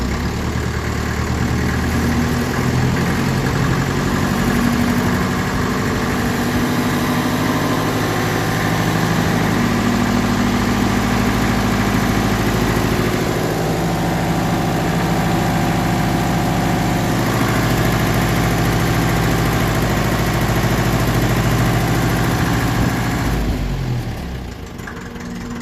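A 1954 Ferguson 20 diesel tractor engine running steadily close by, with a loud, continuous low throb and mechanical clatter that holds at a raised, fairly even level for most of the clip before easing slightly at the end.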